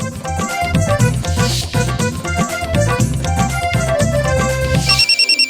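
A melodic phone ringtone plays loudly and up close, a looping electronic tune that stops abruptly near the end.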